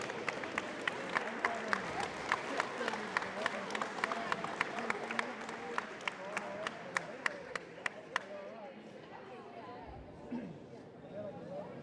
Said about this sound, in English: A big round of applause for your Raiders and your future Raiders.